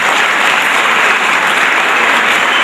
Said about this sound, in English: Give a clap to her,